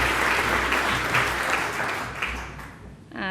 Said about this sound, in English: Round of applause, please, for Joe Townshend.